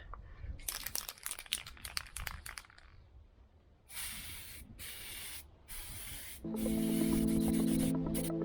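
Peelable spray paint, a Plastidip-style coating, hisses from an aerosol can in several steady bursts of a second or so each, close and fairly loud, after some earlier rustling and crinkling.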